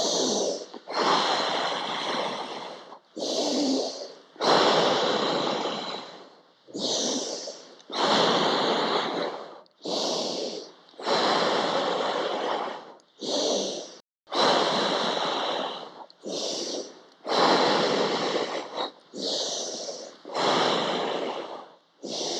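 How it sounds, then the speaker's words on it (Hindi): Repeated deep breaths drawn in and pushed out through the nose during a towel-and-wall belly exercise, about a dozen loud, close, airy bursts separated by short pauses, with no voice over them. "नाक से सांस भरना है"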